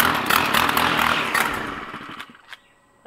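Gas-powered lawn engine on an Exmark commercial 30 mower starting up on half choke: a loud, dense mechanical roar that fades out over a few seconds, ending with a couple of brief knocks.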